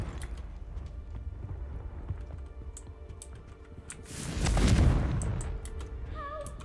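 A fiery Confringo spell blast in Hogwarts Legacy erupts as one loud, roaring burst about two-thirds through, rising out of steady game ambience and fading quickly.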